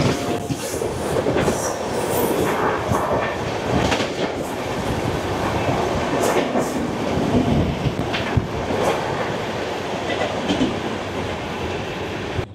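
The Tirumala Express rolls past at a steady pace, a continuous loud rumble of wheels and carriages with faint rhythmic clatter and occasional squeals throughout.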